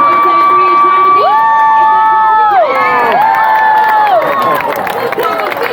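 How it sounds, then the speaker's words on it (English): A crowd cheers and shouts at a stunt dog race at the State Fair of Texas, a loud, steady roar topped by shrill rising and falling tones that run throughout. "thank you so much for cheering on both of our racing dogs"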